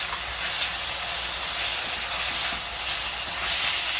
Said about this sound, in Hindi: अब इसमें हम डाल देंगे अदरक लहसुन का पेस्ट, और इसी के साथ में हम डाल देंगे ये हरी मिर्च, और इसकी कच्ची स्मेल जाने तक अच्छे से भून लेंगे।